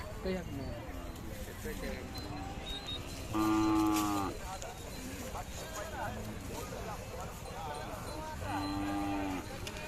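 A Khillar cow at a crowded Chadchan village livestock fair gives two loud, drawn-out moos a few seconds apart, heard over steady background chatter and voices.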